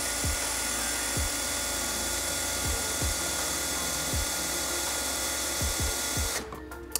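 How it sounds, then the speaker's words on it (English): A small 1/16-inch drill bit bores pilot holes in a Harley-Davidson touring saddlebag. The drill's steady, close whine runs for about six seconds with periodic knocks, then stops abruptly. "So we're gonna use this tiny little drill, 1/16, and we'll drill this hole and those two in here"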